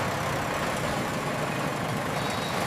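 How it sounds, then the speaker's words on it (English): An engine runs at full capacity, giving a loud, steady, unbroken roar with a low rumble underneath, heard alone throughout. "The engine is running at full capacity, pushing us forward."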